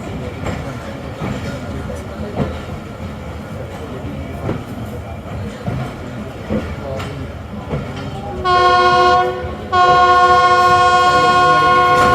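Jaffar Express passenger train standing at a busy Khanewal station platform: steady rumble and crowd bustle, then loud, sustained horn blasts from about two-thirds of the way through.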